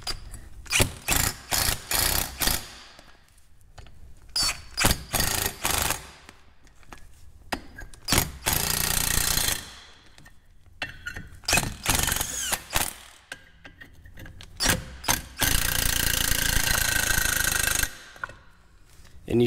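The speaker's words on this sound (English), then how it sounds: "take your impact gun," Impact gun driving M8 bolts into the rotor holes on the rear brakes of a 2012 Subaru Forester, loud close bursts of rapid rattling hammering in repeated short runs, ending with a longer sustained burst.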